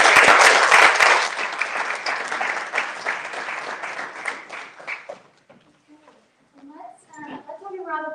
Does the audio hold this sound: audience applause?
yes